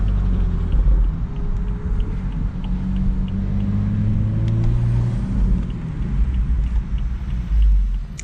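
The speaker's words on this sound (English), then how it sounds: "It already sounds like there's people revving over there" Cars revving at a car meet, heard from inside a tuned BMW M235i (N55, FBO Stage 2+) as it drives in: a steady, loud low engine rumble with rising and falling rev tones, and no talking.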